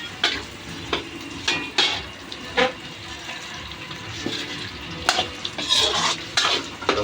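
Garlic and potatoes fry in a pan, a steady low sizzle broken by repeated scrapes and clinks of a utensil stirring, close up with no speech.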